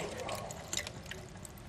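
Water poured into a container of detergent solution for soaking model kit parts, giving a brief splashy trickle with a few drips, faint and close, over a low hiss.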